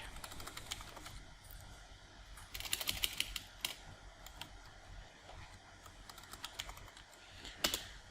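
Typing on a computer keyboard while entering an administrator username and password during an Active Directory setup, with quiet scattered keystrokes that come in brief denser bursts, close and fairly soft.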